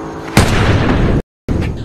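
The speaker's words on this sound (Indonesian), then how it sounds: "Mark bisa mendengar suara tembakan dari duel koboi yang dimenangkan oleh Beth" Gunshots ring out in a cowboy duel from a film, a sharp loud blast followed by sustained booming reverberation, a brief cut to silence, then another shot bursting in.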